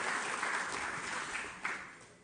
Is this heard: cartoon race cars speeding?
no